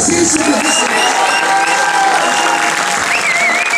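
A cinema audience at a film premiere claps and cheers for arriving actors, a loud continuous roar of applause with whistles and shouts rising over it.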